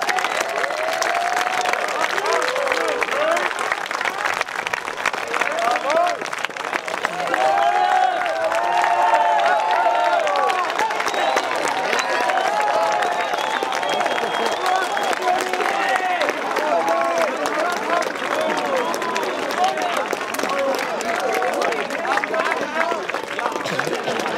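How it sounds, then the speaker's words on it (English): An audience at an outdoor lawn concert claps and cheers in a long, steady round of applause, with crowd chatter and voices mixed into the continuous clapping. "Let's give these guys a round of applause"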